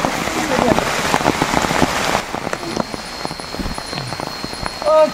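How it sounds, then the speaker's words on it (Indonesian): Heavy rain pours on a campsite beside a river in a forest at night, a loud dense patter on surfaces that eases slightly midway, with scattered drops and brief voices nearby. "Gak bisa bercanda lagi hujan ini."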